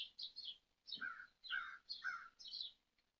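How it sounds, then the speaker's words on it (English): Crows cawing and small birds chirping outdoors on a cool morning, a series of about six distinct calls spaced by short pauses, faint and somewhat distant, with no voices. "Can you hear the birds and the crows and all those little chirping noises outside?"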